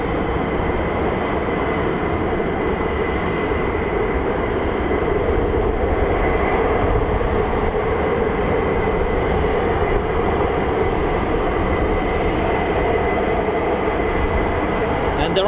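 US Air Force F-15 fighter jets taxi at RAF Lakenheath, their engines a loud, steady, broadband roar and whine that holds without a break.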